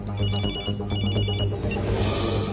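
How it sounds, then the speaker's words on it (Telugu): A telephone rings repeatedly in a film comedy scene, producing bright electronic ring tones in quick bursts, clear and fairly close, with no one speaking over it. "రింగ్ అవుతుంది కానీ ఎవరు ఎత్తట్లేదురా."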